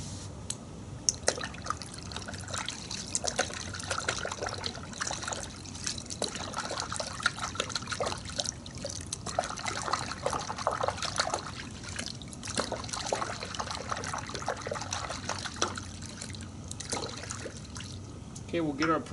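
Warm water trickling and pouring steadily into a bucket while car wash soap is mixed, a continuous close liquid splashing that runs throughout with some talk over it.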